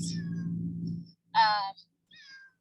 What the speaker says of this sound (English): And if you hear the cat, it's because he's been to the vet.